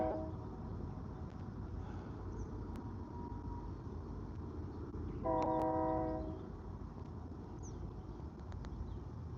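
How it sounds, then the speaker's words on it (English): A train rumbles past at a distance near the Sun River, a long horn blast sounding midway over the steady rolling noise. "Oh, I hear a train."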